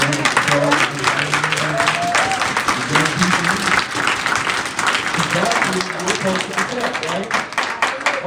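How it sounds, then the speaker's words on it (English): An audience at a community justice meeting bursts into sustained, loud applause, steady and close, with voices calling out and talking over the clapping throughout. "Give them a round of applause."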